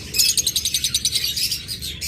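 A breeding pair of pet birds in a cage chirping rapidly, a close run of quick bright tweets in a fast rhythm that pauses briefly near the end, with no talking.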